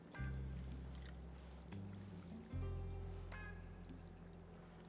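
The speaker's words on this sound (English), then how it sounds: "I'm just going to add the marinade" Marinade is poured over mushrooms cut into fingers, a soft continuous liquid trickle and glug over a low steady hum, close and quiet with no talking.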